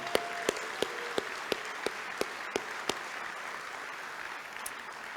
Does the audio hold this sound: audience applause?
yes